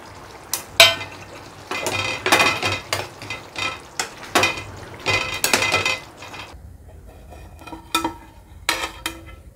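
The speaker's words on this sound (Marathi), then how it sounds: "आता आपण त्याला हलवून घेऊ." Chicken feet and head curry stirred in a pan, with a run of scraping, clinking spoon-on-metal strokes in bursts, close and fairly loud, with a quieter sizzle between them.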